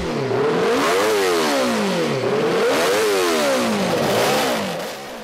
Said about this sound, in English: everybody wanted to hear the rumble and roar of the 4-cylinder engine bike that Kel Carruthers rode to victory